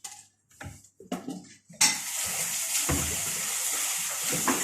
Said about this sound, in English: You can just pour them into the sieve and just have a little wash.